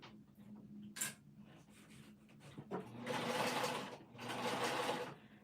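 A sewing machine back stitches a top stitch on a winter crescent bag of waterproof canvas, giving two fairly quiet runs of rapid mechanical whirring after some faint handling clicks.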